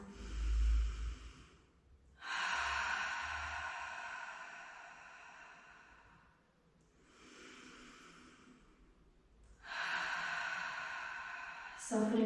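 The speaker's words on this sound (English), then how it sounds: "taking a few nice deep grounding breaths in through the nose and out through the mouth" Slow, deep breaths drawn in through the nose and let out through the mouth during a calm yoga session, each breath long and steady with pauses between, close and fairly soft, with no talking.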